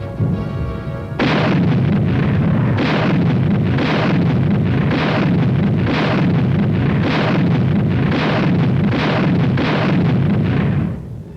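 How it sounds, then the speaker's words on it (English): A tank gun elevated and fired as artillery in a wartime summer offensive, heard as a long run of heavy, evenly spaced booming blasts, roughly one per second, loud and continuous, with no voices. "With a little added elevation, a tank's rifle can be darn good artillery."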